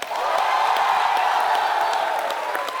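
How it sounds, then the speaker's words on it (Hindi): Steady studio audience applause and cheering welcomes the Begum Jaan film team on a comedy talk show, a dense, even wash of clapping held at one level throughout. "आप सबकी जोरदार तालियों के बीच स्वागत करना चाहूंगा फिल्म बेगम जान की टीम"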